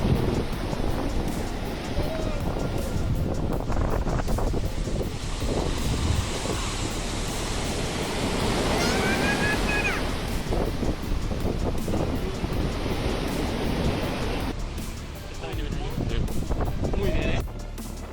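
Strong storm wind roars and buffets over crashing surf at the Cliffs of Moher, Ireland, with a voice speaking over the blustery, continuous noise.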